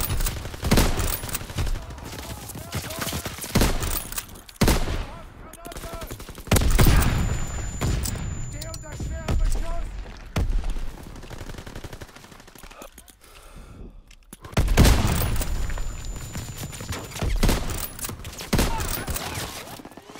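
An artillery barrage in a video game: dense rumbling volleys of fire roll in waves, heavy and loud, with brief lulls between bursts.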